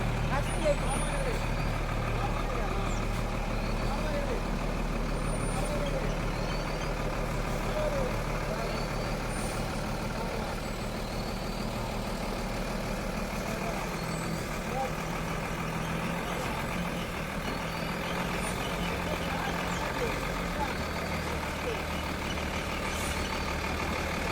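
A loaded truck reverses to deliver laterite stones at a building site in Kumbhavade, Rajapur, its engine droning steadily nearby for the whole stretch, with faint air-brake hisses and workers calling out directions over it.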